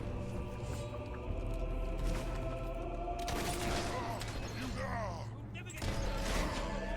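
Gunfire in the video game Fable 3, with bursts of shots and clattering impacts over a dense battle mix of music and noise, strongest in the second half, with voices mixed in.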